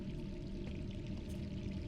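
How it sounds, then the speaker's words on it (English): Steady rain and running water in the Resident Evil 3 video game, a continuous even wash of hiss and patter with no breaks, moderately quiet and steady throughout. "You left the rain on outside, faucets on inside."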